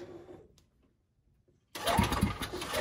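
A golf cart with a straight-piped exhaust fires up after a near-silent pause, bursting into a loud, raw, rumbling engine roar that keeps running close by.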